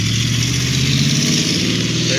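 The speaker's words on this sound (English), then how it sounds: "Neighbor with a loud truck." An old, loud truck drives past in a residential neighborhood, its rough, rumbling engine steady and fairly close throughout.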